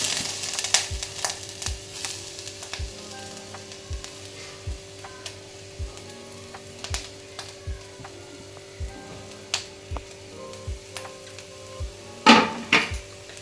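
Grated coconut stirred into ghee in a pan for steamed modak filling, with a spatula scraping the pan in a steady rhythm of close, light strokes, then a louder clatter near the end and no talk.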